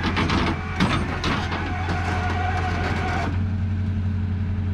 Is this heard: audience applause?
no